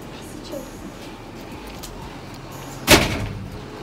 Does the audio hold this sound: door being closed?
yes